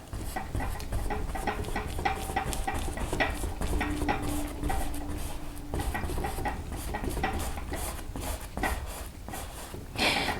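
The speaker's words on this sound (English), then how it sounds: "I'm having to mix a little more paint here" Paint being mixed on a palette for a landscape painting produces soft, repeated scraping and tapping strokes, close and fairly quiet, in an otherwise still room.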